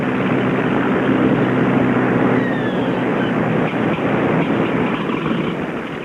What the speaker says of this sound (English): All the engines turning over now as they get ready to taxi out.